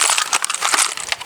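Plastic battery terminal packaging torn open by hand, a quick crinkly rip with crackling bursts lasting about a second.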